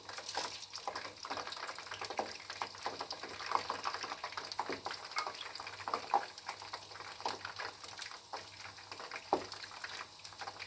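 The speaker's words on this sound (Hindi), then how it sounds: "तो गाइस, ये अच्छी तरह फ्राई हो रहे हैं।" Vegetable and chicken roll samosas deep frying in oil, a quiet close crackle of irregular small pops and bubbling that runs continuously with no voices.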